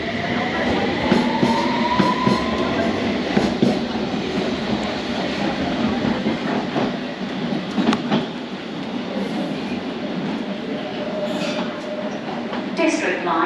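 A District line train bound for Barking pulls out of Whitechapel station, its rumble and clatter of wheels rolling steadily nearby for the whole stretch, with faint squeals and people talking around the platform.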